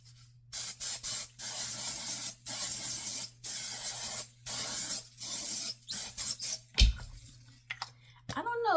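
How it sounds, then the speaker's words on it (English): Makeup fixing spray goes on over a finished foundation look as a series of about nine short, close pump-mist hisses separated by brief pauses, ending with a few softer clicks and handling noises. "fixing spray."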